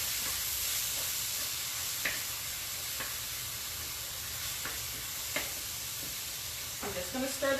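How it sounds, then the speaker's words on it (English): Meat sizzles steadily in a pan for a keto Philly cheesesteak casserole, a constant bright hiss broken by a few scraping stirs and taps of the utensil. "I'm just going to stir this meat real quick."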